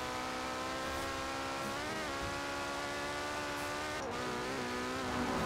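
Porsche 911 engine in Forza Horizon 4 revving high and steady, a loud continuous racing-car whine that rises in pitch and dips briefly around gear changes, with no talking.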